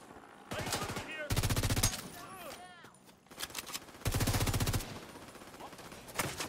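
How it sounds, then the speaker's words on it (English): Heavy automatic gunfire in a video game shooter comes in several long, loud bursts of rapid fire, with shorter shots between them, mixed with game voices and other battle effects. "Taking fire! Taking heavy fire!"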